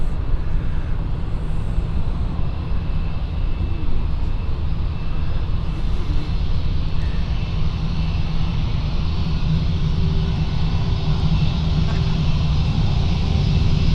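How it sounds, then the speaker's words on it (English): An Airbus A321-200 rolling along a taxiway at Frankfurt Airport produces a continuous deep engine drone and hiss, steady and fairly loud the whole time, close by, with no speech. "We will now see the Berlin flight pass us in a minute."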